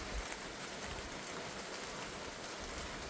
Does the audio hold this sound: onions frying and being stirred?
no